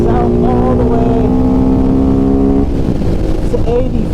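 A Honda NT650 V-twin motorcycle engine drones loudly and close, its pitch holding steady then dropping as the revs fall, a deep rumbling tone throughout.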